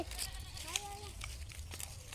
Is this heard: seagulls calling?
no